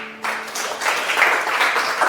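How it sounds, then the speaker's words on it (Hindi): An audience at a sales motivation seminar breaks into applause, a burst of many clapping hands that rises quickly and holds steady, fairly loud and close. "एक बार जोरदार तालियां आप अपने लिए।"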